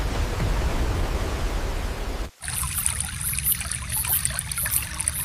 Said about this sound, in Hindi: बारिश का पानी तेजी से आकर बांध से टकराने लगा और धीरे धीरे बांध टूटने लगा